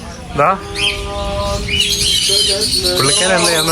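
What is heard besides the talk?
parrots and birds at a pet market in Istanbul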